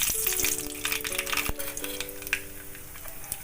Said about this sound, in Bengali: কড়ায় সর্ষের তেল বসিয়ে দিয়েছি এর মধ্যে কালো জিরে ফোড়ন দিয়ে দিলাম